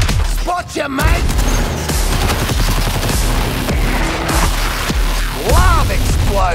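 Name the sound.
gunfire at a tank in Suicide Squad video game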